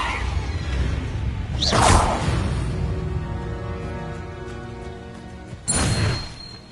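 A Leviosa levitation spell in the Hogwarts Legacy video game, heard as two bright swooshes several seconds apart, each a sudden airy rush over a low hum of game ambience.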